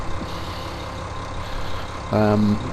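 A tractor engine with a trailer hitched in Farming Simulator 15 on PS4 runs as a steady low rumble, then swells into a louder, tonal revving burst over the last half second.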